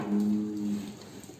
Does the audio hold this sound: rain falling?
no